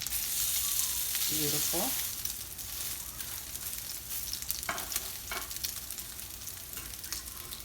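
Crab cakes crackle and spit in hot oil in a pan, a dense, steady close sizzle throughout, with a brief spoken word early on and a few sharper pops later.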